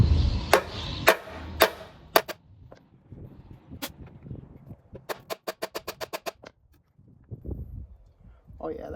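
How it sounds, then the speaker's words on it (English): Hammer driving a pin out of a Kohler big block engine during balance gear removal: sharp metallic taps, first scattered, then a quick rapid series of evenly spaced strikes, close and loud, with a voice speaking between the hits. "I'm just going to see if I can just pop that pin out and drive it back in from the outside of the block."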